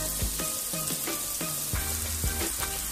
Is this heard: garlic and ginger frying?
yes